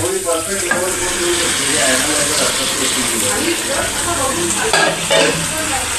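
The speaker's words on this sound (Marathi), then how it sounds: "वजडी फ्राय करून घेतो आहे" Tripe sizzles loudly in a hot pan while being stirred with a utensil, a continuous close crackle and hiss with scraping movements throughout.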